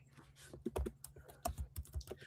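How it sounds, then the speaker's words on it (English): Rapid clacky keystrokes on a loud keyboard, irregular bursts of sharp clicks up close with no talking. "Why is your keyboard so loud"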